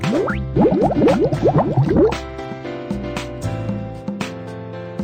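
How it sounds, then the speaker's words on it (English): Cartoonish pouring effects from a kids' ice cream shop video game as milk is poured for chocolate ice cream: a quick run of bubbly, boinging liquid glugs and plops over light background music, then settling into a softer tail. "Pour the milk."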